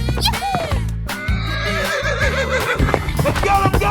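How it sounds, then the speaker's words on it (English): Cartoon horse neighing in a 3D animal slide game, a wavering whinny repeated a few times over upbeat game music with a thumping rhythm. "horse,"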